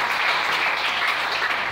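A church congregation breaks into steady, dense applause that fills the whole moment, a continuous wash of many hands clapping with no one speaking over it.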